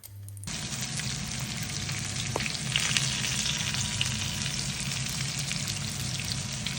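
Pike fillets frying in oil in a pan, a dense crackling sizzle that bursts in suddenly after a brief quiet moment and then holds steady, close and unbroken, with no voices.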